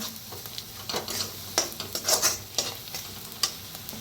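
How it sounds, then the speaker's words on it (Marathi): Red chili powder and coriander powder roasting in a pan for a masala okra dish, a soft sizzle under repeated scraping and stirring strokes of a spoon, close and fairly quiet. "लाल तिखट एक बारका चमचा, धना पावडर अर्धा चमचा, छान भाजून घेऊया"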